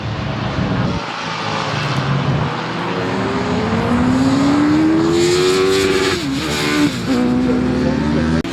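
Classic motorcycles, including a Yamaha 350, pass along the Tonfanau racing circuit in a parade, engines droning loudly and steadily for several seconds with rising and falling pitch as they go by.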